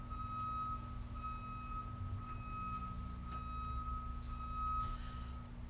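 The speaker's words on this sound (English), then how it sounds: "So glad a big truck's deciding to reverse right now." A big truck reverses outdoors, its steady reversing beeps pulsing at a regular rhythm over a constant low engine rumble, moderately distant.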